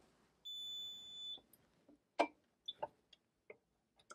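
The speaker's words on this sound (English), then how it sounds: "Now you heard the second beep." A single steady electronic beep lasts about a second from a Drufomat pressure-forming machine pressurizing its cylinder to make a sports mouthguard, followed by several quiet clicks and clunks of machinery in a hushed room.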